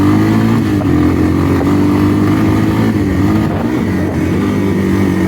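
Honda Big Red ATV with carburetor trouble, its engine running loud and close in a rough, uneven drone as it revs and bogs down, with no talking.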